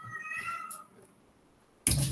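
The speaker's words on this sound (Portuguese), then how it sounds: "ele não tem noção de som e ele acaba miando alto" A deaf cat gives a loud, tonal meow that fades out, followed by a brief quiet stretch and then a burst of broadband noise at the end; no one speaks.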